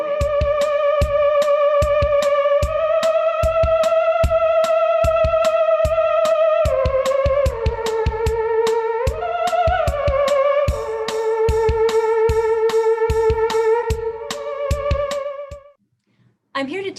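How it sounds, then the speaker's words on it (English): A theremin plays a sustained, gliding, vibrato-laden melody over a steady rhythmic percussive backing track, loud and close, with a brief drop to near silence at the end. "this is the sound of the theremin"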